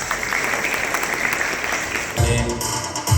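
Ceremony audience breaking into loud applause at a hospital anniversary celebration in Palus, a dense wash of clapping that swells sharply in the final second, with no voices on top.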